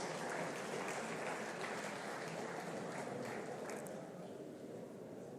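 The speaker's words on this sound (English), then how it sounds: "I think they need a round of applause." An audience gives a sustained round of applause at a Democracy Day public lecture, dense clapping that fills the room and eases slightly toward the end.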